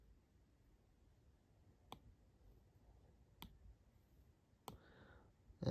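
Three sharp, isolated clicks of a computer mouse on a laptop, spaced about a second and a half apart in a quiet room, with no one talking.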